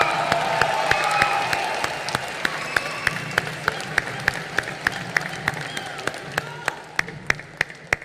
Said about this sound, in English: Round of applause for Chiranjeevi sir.